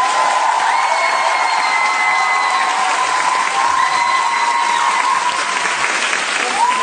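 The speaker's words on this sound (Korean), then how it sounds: "박수 주세요." Showcase audience applauding and cheering at a 2009 musical showcase, loud continuous clapping with whoops and shouts mixed in, alongside sustained tonal sound, at a steady, full level the whole way.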